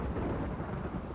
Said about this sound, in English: At least it's raining.